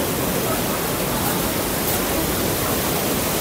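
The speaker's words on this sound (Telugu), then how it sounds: "కాంచనగంగ వాటర్ ఫాల్ కొంత దూరం వచ్చాం" Kanchenjunga Waterfall in West Sikkim roaring as a dense, unbroken wash of falling water, loud and steady from start to finish with no clear voices over it.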